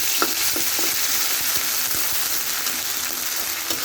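Ginger-garlic paste being stirred with fried onions in a hot pan for a village-style chicken curry, steady sizzling under scattered scrapes and spoon clicks, close and continuous.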